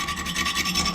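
A hand file rasps across a hardened steel knife blade after heat treatment, skating and barely biting, in steady back-and-forth strokes heard up close, with no talk.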